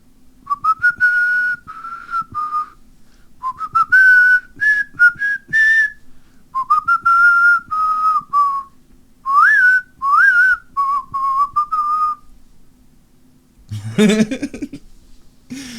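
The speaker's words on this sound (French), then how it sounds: "j'ai siffloté comme un nulos" A person whistles a halting tune in short, clear phrases with gaps between them, and a burst of laughter comes near the end.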